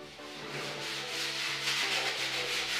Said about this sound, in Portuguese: Agora vou dar uma pequena lixada por cima para acabar com alguns pedacinhos que fica meio áspero e pronto.